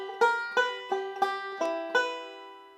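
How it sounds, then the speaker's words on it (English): Banjo plucked in a forward roll starting on the first string for Cripple Creek, six crisp bright attacks in a steady pattern, each ringing and decaying, close and clear with no voices. "We're going to do a forward roll starting on the first string,"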